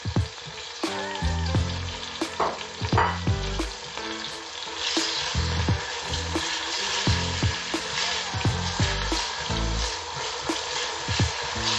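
Salted fish fries in a pot as the base for a spinach stew, giving a strong continuous sizzle broken by repeated stirring clanks and scrapes against the pot.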